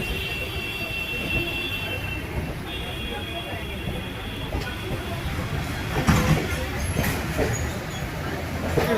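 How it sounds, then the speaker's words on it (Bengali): A train rumbles and rolls into Diamond Harbour station, with a high metallic whine early on and heavier clanks and bursts of noise building toward the end, voices faint underneath. "ট্রেনটি লেট করে ডায়মন্ড হারবার স্টেশনে প্রবেশ করলো"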